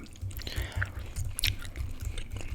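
Close, wet gum chewing with soft rhythmic squishes and small clicky smacks repeating at a steady pace, quiet and intimate with no talking.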